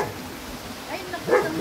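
A big dog barks a couple of times toward the end, sharper and louder than the quieter rumbling background before it.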